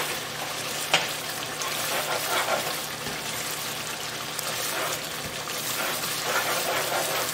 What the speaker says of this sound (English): And now let this paste cook with the onion a little bit, 2-3 minutes, over medium high heat.